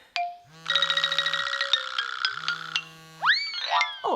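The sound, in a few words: telephone ringing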